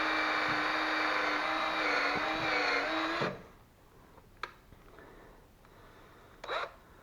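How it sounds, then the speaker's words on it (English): A power drill whines steadily for about three seconds while drilling through plastic, then stops, followed by a few faint knocks and handling sounds. "So I'm just going to drill right through the center here."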